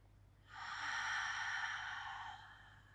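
A single deep, airy breath during a Pilates workout, drawn in close and softly for about two seconds, with no talk.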